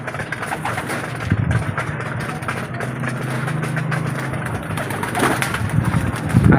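Pet pigeons in a backyard loft: soft, low cooing and murmuring close by, continuous and fairly loud, with a faint engine-like drone and rustling underneath.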